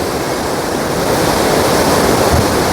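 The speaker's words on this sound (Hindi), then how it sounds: "बहुत तेज़ बहाव हो रखा है, कुछ स्पीड बनाई रखी है पानी ने गिरने की" Fast, steeply falling mountain water along the Kedarnath trek roars loudly and continuously nearby, a dense unbroken rush with no voices over it.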